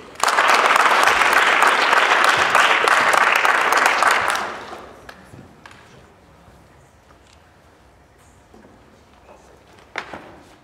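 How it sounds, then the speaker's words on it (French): Loud applause from a student debate audience, dense clapping for about four seconds before cutting off abruptly, leaving quiet room noise with a few scattered sounds. "je vous demande de l'applaudir, s'il vous plaît"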